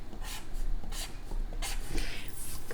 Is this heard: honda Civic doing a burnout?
no